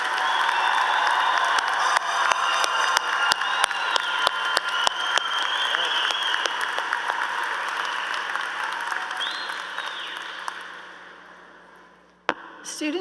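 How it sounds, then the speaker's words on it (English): Graduation audience at a university commencement gives a rousing round of applause, a thick sustained clatter of many hands with occasional sharper claps, slowly fading over several seconds before a final lone clap. "Audience, please give these graduates one more rousing round of applause."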